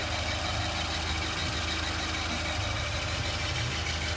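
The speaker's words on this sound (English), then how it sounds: "it's a naturally aspirated 4-cylinder, making like 120 something horsepower" A Volvo 940 wagon's naturally aspirated four-cylinder engine idles steadily, a low, even rumble with a faint rhythmic knock, constant in loudness throughout.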